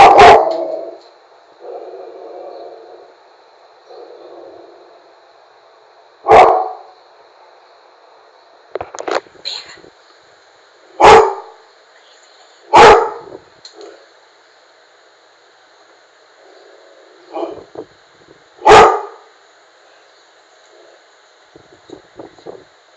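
A dog barks at its own reflection in a mirror, giving loud, close single barks and short bursts spaced several seconds apart, with softer yips and grumbles in between.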